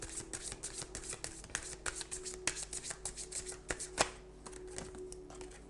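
Oracle cards being shuffled by hand, a quiet, steady run of soft riffling flicks and slaps with a faint background hum and no speech.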